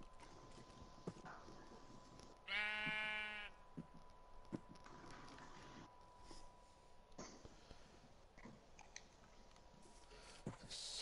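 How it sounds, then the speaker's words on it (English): A sheep in the Minecraft video game gives one short, clear bleat with a wavering tone, over a quiet game background with scattered soft clicks. "How did the sheep get in here?"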